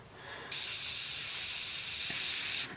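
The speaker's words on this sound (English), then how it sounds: "we're going to spray it with a bit of buff" Airbrush spraying buff paint onto a 1/32 scale model aircraft, a sudden close, bright hiss that holds steady for about two seconds before cutting off, with a faint click near the end.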